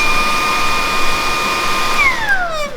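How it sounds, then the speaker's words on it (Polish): A Xiaomi Dreame T20 cordless vacuum cleaner runs with a steady, loud motor whine near the microphone, and its pitch drops sharply toward the end as it powers down. "odkurzacz w ciągu nam cały czas odkurza"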